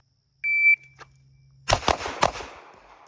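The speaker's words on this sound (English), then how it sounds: "we were driving the gun up as we were firing those shots" A shot timer beeps, then a pistol fires several rapid shots at a target during practical shooting training, sharp loud cracks in quick succession.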